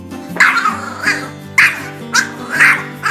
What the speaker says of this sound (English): Despite its small size, it has a loud bark,